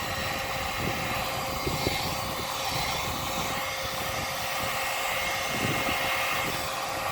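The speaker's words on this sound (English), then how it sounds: "I'm now going to take my good old cheapy heat gun. Just give it a little bit of heat." A cheap heat gun heats vinyl wrap on chrome trim, blowing with a steady, loud, close whoosh and whine that runs unbroken throughout.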